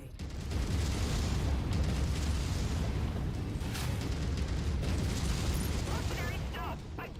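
Giant mech destroyed under full weapons fire in MechWarrior 5: a loud, sustained barrage of booming, rumbling explosions and mechanical clatter filling the whole stretch, with a brief burst of higher crackle near the end.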